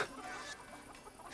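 A chicken clucks in the Wild West stealth game Desperados 3, a brief, close run of soft clucks over a hissy, noisy background.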